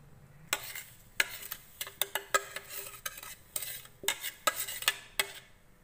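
Crushed biscuit powder being stirred into melted butter for a sweet dessert, giving a string of sharp scraping and clinking strikes, utensil against bowl, in irregular bursts close by with no talking.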